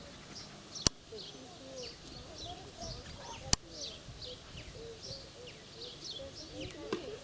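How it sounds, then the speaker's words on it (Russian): Pigeons coo in low, repeated murmuring phrases outdoors at a children's summer camp, with higher chirps of small birds scattered above and two sharp knocks breaking through the steady background. "О, голуби."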